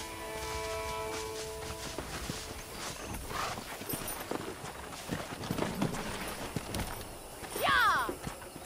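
Wild horses in the Red Dead Redemption video game, with hoofbeats clip-clopping steadily under game music and ambience, then a clear, loud whinny near the end.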